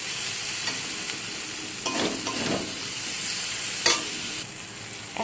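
Spices being stirred through a hot frying pan with chilli powder, a steady sizzling hiss with a few louder scraping strokes, close and alone.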